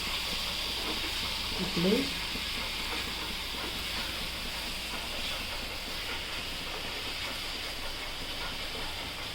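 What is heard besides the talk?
masala paste frying in a pan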